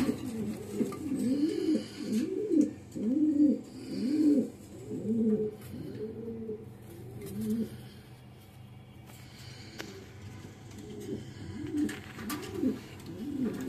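Several pigeons coo in quick overlapping calls on a pigeon farm, busy at first, then a quieter stretch before more coos resume near the end; close and clear with no speech.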